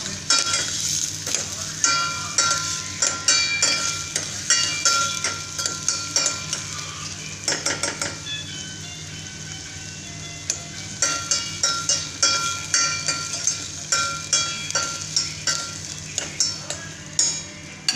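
Squid adobo fries in a pan with steady sizzling underneath. A utensil scrapes and clinks against the pan in a quick, regular stirring rhythm throughout, and no one talks.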